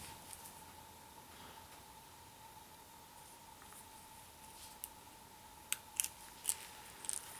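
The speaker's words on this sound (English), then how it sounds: "I'm going to cut that crimp section out." Scissors cut through the crimp end of a 12 gauge shotgun shell with a few faint, close snips clustered near the end, over a quiet steady hum.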